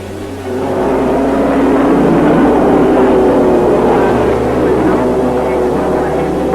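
Racing cars at the Le Mans start, led by a Cunningham with the whole pack behind, a loud continuous roar of many engines close by that stays dense and sustained throughout.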